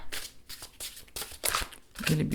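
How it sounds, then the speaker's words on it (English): A thick witchy oracle card deck is shuffled overhand in short, papery bursts of slapping and sliding cards, close and crisp, with brief pauses between passes. "Let me show you how it shuffles"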